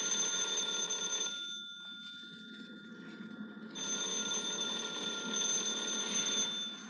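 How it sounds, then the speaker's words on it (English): A telephone bell in a classic radio drama rings in two long bursts separated by a short pause, a bright metallic trill heard alone and fairly clear. "Are you going to answer the phone?"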